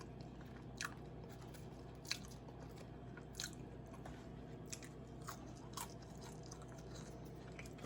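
Seasoned crinkle fries being chewed close up, a quiet series of crisp crunches in an irregular rhythm over faint room hum.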